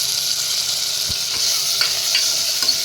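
A large tomato sautés in ginger garlic paste in a pan for potato kurma, giving a steady bright sizzle with a few soft stirring scrapes and no voices.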